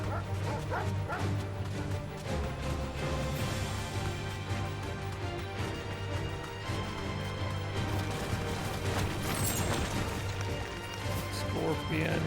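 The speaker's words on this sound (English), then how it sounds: "Doggies" Dogs bark and yip in Final Fantasy XVI amid busy game music and combat crashes, the barks sharp and repeated over a dense, constant soundtrack, with a voice talking over it.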